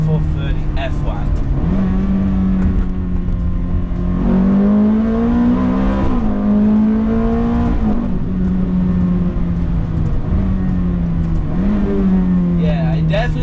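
A Ferrari F430 F1 on a test drive, its engine rising and falling through repeated revs as it shifts, loud and close, with a voice talking over the steady mechanical drone.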